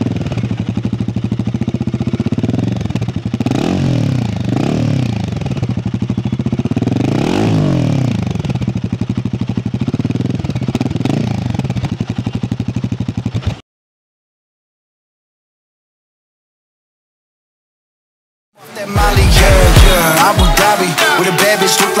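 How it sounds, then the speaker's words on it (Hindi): A 2024 Royal Enfield Guerrilla 450 motorcycle's exhaust throbs nearby at idle and rises and falls through several revs. After a spell of silence, loud music cuts in at the end. "इसका अभी हम लोग लेंगे थोड़ा एग्जॉस्ट नोट देखते हैं इसका"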